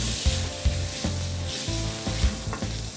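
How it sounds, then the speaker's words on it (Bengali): Julienned chicken frying with chopped, browned garlic in a pan for Mexican fajitas, giving a loud, steady, close sizzle with repeated scraping and stirring knocks and no voices. "রসুন কুচিটা ব্রাউন হয়ে আসলে আমরা চিকেনটা দিয়ে দিব। ঠিক আছে, আমরা এখন জুলিয়ান চিকেন দিয়ে দিচ্ছি।"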